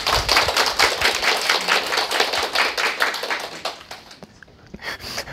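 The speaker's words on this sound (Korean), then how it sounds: "그러면 박수 좀 부탁드립니다" A small group at an admissions information session claps steadily, rapid overlapping hand claps that thin out and fade near the end, with a brief murmur of voices.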